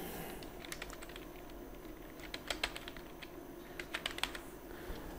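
Someone types on a computer keyboard while entering input for a Python program, giving quiet, irregular bursts of key clicks against a faint background hum.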